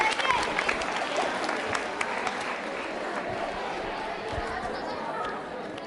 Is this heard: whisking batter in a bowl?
no